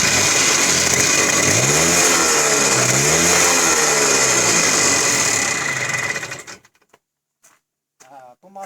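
A motorcycle engine runs loud and close with a deep throbbing idle, rising and falling through a couple of revs before being cut off abruptly, leaving near silence and brief faint speech.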